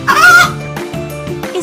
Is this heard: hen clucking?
yes